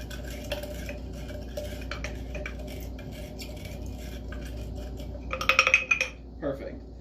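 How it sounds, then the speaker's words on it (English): A spoon muddles and stirs sugar with water in a mixing glass for an Old Fashioned cocktail, a soft steady scraping that breaks into a brief burst of bright glassy clinks near the end. "we're going to muddle that up, kind of stir it, try and dissolve as much of that sugar as you can"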